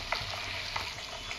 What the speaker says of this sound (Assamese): এয়া চাওক, ধুনীয়াকৈ উতলি আছে